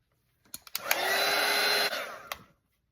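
A hair dryer clicks on and blows for about a second at close range, drying a watercolour painting with a steady whooshing whir, then cuts off with a couple of handling clicks.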